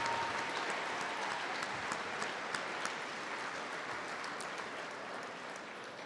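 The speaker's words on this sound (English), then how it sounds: "So how about a round of applause for your parents?" Audience applause at a graduation ceremony, steady even clapping from a large crowd that holds at a constant level throughout, with no voices over it.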